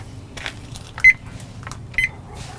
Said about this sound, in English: I'm going to start my timer.